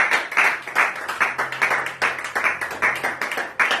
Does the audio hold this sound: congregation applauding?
yes